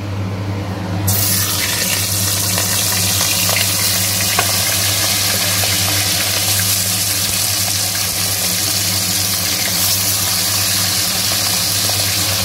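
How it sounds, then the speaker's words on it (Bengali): Loud, continuous sizzling of chicken frying in a pan, steady and close throughout, with a low hum underneath and no speech. "চিকেনটা এক পিস ভাজা হয়ে গেছে, এটাকে আমি উল্টে দিচ্ছি।"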